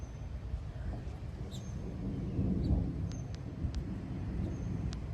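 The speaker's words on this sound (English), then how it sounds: "Well, there's the thunder." Low thunder rumbles through a severe thunderstorm with gusty wind in Plano, Texas, swelling at the midpoint and staying distant and steady, with a few faint clicks on top.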